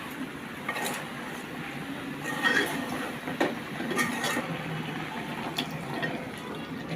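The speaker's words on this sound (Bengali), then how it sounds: "একটু পানি দিয়ে দিলেন" Water poured into a cooking pan of tomato and dried loitta fish with eggplant, a steady close splashing stream with a few clinks, fairly soft.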